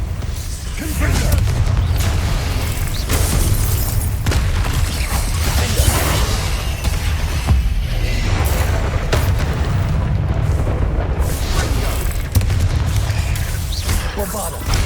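Repeated Confringo fire spell blasts in Hogwarts Legacy, loud booming bursts one after another over a constant rumbling battle din.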